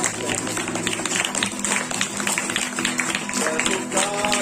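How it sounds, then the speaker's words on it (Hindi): A church congregation claps along to a Hindi worship song. Many hands keep up a continuous rhythmic patter beneath the singing and music. "ताली बजाएंगे प्रभु यीशु के नाम के"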